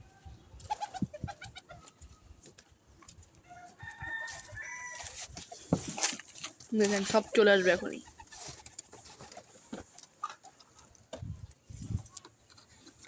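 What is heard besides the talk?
pigeons cooing while waiting for food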